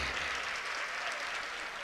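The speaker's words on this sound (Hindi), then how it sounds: "एक बार इनके लिए जोरदार ताली बजाइए" A large audience claps loudly and steadily at a public speech and poetry recital, a dense, continuous applause that fills the whole moment with no speaking over it.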